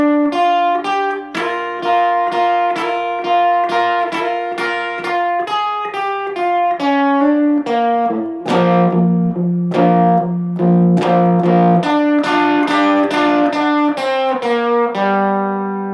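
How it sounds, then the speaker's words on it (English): An electric guitar plays a song intro very slowly, with a clear sequence of bright, slightly distorted double-stop notes and bends that ring out one after another, loud and close. "here, one more time, super slow on the intro"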